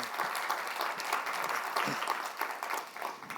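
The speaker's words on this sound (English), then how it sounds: "Would you please stand and receive applause?" Audience applause at a humanities scholars' gathering on the Native American roots of Texas Mexican food, honoring Dr. Liliana Patricia Saldaña of the University of Texas at San Antonio; steady, dense clapping from a seated crowd, sustained throughout.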